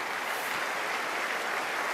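A church congregation applauding during a sermon, a steady wash of distant clapping lasting a couple of seconds at low level.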